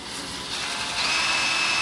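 Power drill spinning a homemade sandpaper flap disc to hone the bore of a 1970 El Camino TH350 transmission part; a steady, close, loud whirring grind that rises in pitch and intensity halfway through, with no talk.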